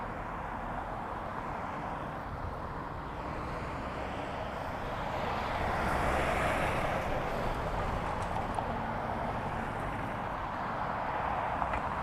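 An Air France Airbus A220 airliner arriving from Paris makes a continuous, moderately distant jet rumble that swells gently partway through and then holds steady, heard alone without talk.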